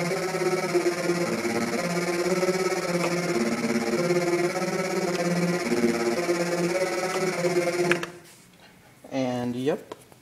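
A MicroKORG synthesizer with latch on plays a riff, a steady sustained pattern of stacked tones that stops abruptly near the end before a short rising and falling swoop.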